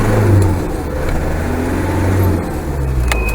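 A Land Rover engine revs up as it gathers speed, a steady loud low drone of motor and road rumble that swells early and holds throughout, with no talking.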